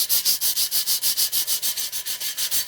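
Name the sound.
sandpaper sanding a BuildTak 3D printer bed surface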